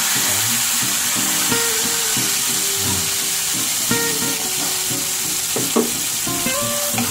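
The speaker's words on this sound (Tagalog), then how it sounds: "ilagay natin yung kamatis unahin natin yung kamatis para matunaw ito" Tomatoes cook in melted margarine in a hot pan, giving a loud steady sizzle and frying hiss, with light stirring scrapes now and then.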